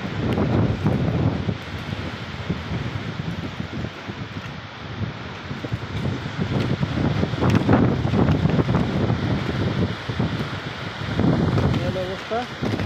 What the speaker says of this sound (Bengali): অপরিমাণ বাতাস।